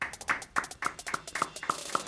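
A small round of applause at a podcast birthday celebration, roughly eight distinct sharp claps in an even rhythm, fairly close and moderately quiet, with no talking.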